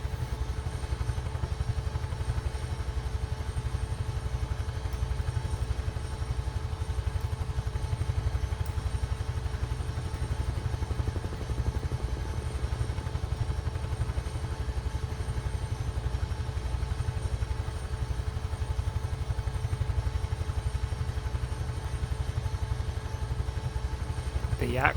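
Huey helicopter turbine and rotor drone from Microsoft Flight Simulator during a belly tank firefighting flight, a steady loud low throb with constant whine held evenly throughout, no pauses.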